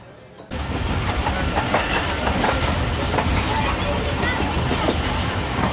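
Passenger train rounding a curve through rice fields, a loud continuous rumble and rattle of carriages with rhythmic wheel clatter that starts abruptly after a quiet moment.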